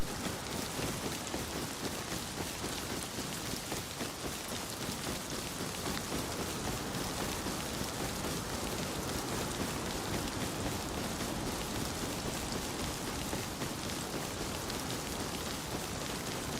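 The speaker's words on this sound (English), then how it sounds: "I don't think he can hear me because of the rain." Steady heavy rain falling in the survival game Rust, a dense, even hiss that holds without a break for the whole stretch, with no talk.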